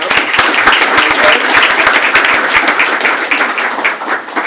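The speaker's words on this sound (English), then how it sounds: "Let's give these guys a big round of applause" Loud, sustained applause from a crowd at a school board meeting, dense clapping throughout with no break, close and full.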